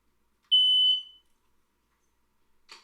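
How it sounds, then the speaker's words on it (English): A smoke alarm lets out a single loud, piercing electronic beep lasting about half a second in a quiet room, then a faint brief chirp near the end. "Stay quiet, smoke alarm."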